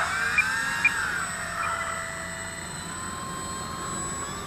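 An eFlite P-51 Mustang RC model plane drones on its takeoff, a steady, moderately distant engine whine whose pitch glides slowly as it climbs away, with no talking.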